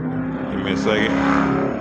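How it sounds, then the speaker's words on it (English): A loud car roars past on a busy street: its engine swells and passes close by while someone speaks briefly over the noise. "I stay by a busy street, so it's a lot of loud cars gonna pass by"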